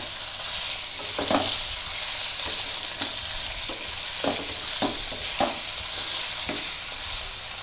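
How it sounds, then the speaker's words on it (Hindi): Chicken pieces lightly frying in a pan for white chicken karahi, a continuous close sizzle with spatula stirs popping up at irregular intervals and no talking. "इसको हम हल्का सा फ्राई कर लेंगे"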